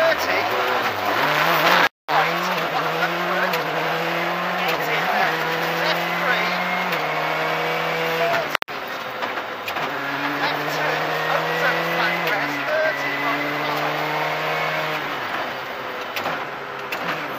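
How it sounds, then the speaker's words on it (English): Skoda Fabia WRC rally car swinging through a handbrake hairpin on a rally stage, its engine loud and close, revs rising and falling in stepped bursts as it pivots and pulls away, with tyre scrabble under the engine note. "Stage 4 also saw one of John's best ever handbrake hairpins performed inside that Fabia"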